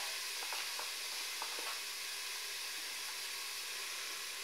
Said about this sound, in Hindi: मसाला डालने के बाद अच्छे से भूनेंगे